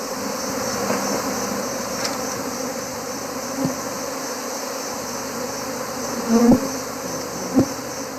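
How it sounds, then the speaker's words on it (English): A dense, steady drone of many alarmed bees swarming out of hives fills the air, with a few individual bees zipping close past. "thousands of alarmed bees are swarming out"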